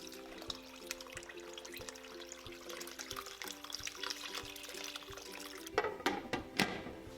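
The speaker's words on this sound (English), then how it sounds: "Add about 4 quarts of water in the pot." Tap water runs into a large cooking pot holding beef short rib bones and brisket, a steady close splashing stream with a low hum behind it, ending in a few louder clatters.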